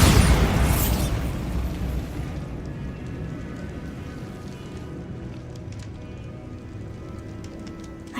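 A Bombarda spell explodes in Hogwarts Legacy with a loud, broad blast right at the start, then fades into a long rumbling, crackling tail like falling debris or rain, with no talk.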